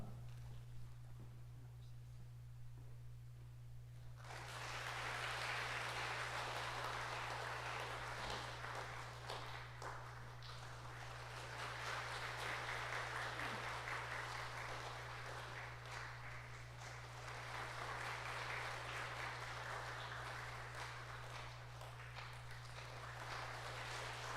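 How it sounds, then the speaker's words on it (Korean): A church congregation at a Sunday morning service breaks into warm applause after a few quiet seconds, a soft, sustained patter of many hands over a low steady hum, continuing to the end. "여러분들 따뜻한 박수로 축하를 해 주시기를 바랍니다"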